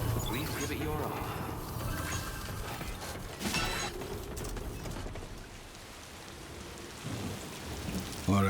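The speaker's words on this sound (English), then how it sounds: "Alright, the rain is falling." Video game rain called Timefall pours steadily with rumbling thunder, a full stormy wash that continues throughout with brief louder swells and game sounds mixed in.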